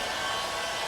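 Heat gun blasting hot air to shrink ceramic window tint on the outside of a 2022 Tesla Model X windshield, a steady broadband whoosh with no pauses, close and loud.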